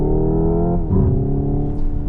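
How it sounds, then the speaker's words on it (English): A steady synthetic engine-like hum from a 2025 Hyundai Ioniq 5 N electric car, with a brief pitch drop and rise partway through as it simulates an upshift, heard up close. "And you can hear it upshift."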